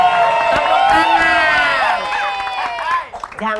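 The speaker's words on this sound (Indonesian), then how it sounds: "Tepuk tangan." A television comedy studio audience claps and cheers to welcome a guest, a dense burst of applause with whoops and crowd noise that carries for several seconds before fading under a host's voice.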